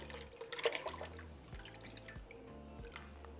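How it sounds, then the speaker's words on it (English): Heavy cream pours into a pot of chicken and gnocchi soup, producing soft liquid splashes and gurgles with a few drips, quiet and close. "now we're going to add our 3 cups of heavy cream"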